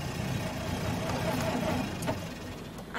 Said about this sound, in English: The engine sounded funny then.